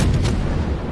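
Naval gunfire from a warship's cannons in the video game World of Warships, a loud booming blast with a rumbling tail that fills the brief moment, heard with no voices over it.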